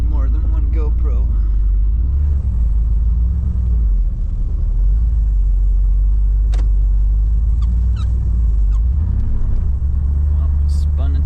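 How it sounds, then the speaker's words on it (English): A project car drives along with a loud, steady low engine rumble and road noise throughout, its tires briefly spinning; faint voices are heard in the background. "spun the tires here a little bit"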